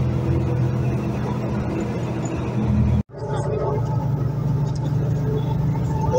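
Continuous loud engine rumble and road roar from inside an H1 coach bus travelling on a highway, steady throughout with one brief sharp dropout near the middle.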